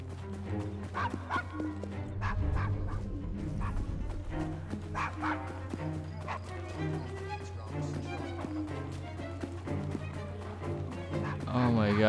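In-game dog in Assassin's Creed Syndicate, heard in short yips and woofs scattered through a busy game scene with music and someone talking over it.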